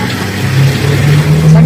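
Small motorized tricycle engine droning steadily during a ride in Mindoro, a low hum that grows slightly louder partway through, with voices chatting over it.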